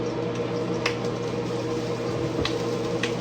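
Onion and garlic sizzling in a little hot oil in a pan, a steady close hiss and crackle with occasional louder pops, with no talking over it.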